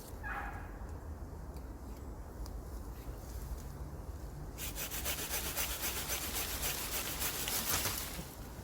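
A hand saw cuts through a thin oak branch in the woods. The rasping strokes come near and steady, and they grow louder and faster partway through.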